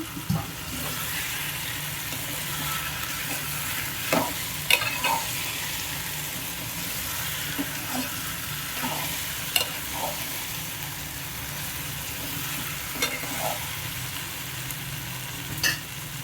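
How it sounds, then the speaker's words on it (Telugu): Cut potato pieces frying in a pan of spice paste with green chillies, stirred steadily: a continuous close sizzle broken by scraping and clinking of the spoon, with no talk. "మగ్గినాక మనం కట్ చేసి పెట్టుకున్న ఉర్లగడ్డ ముక్కలైతే వేసేస్తున్నాం"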